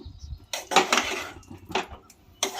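A spoon clanks and scrapes against a pot while creamy chicken malai gravy is mixed, giving a few separate bursts of metallic stirring noise.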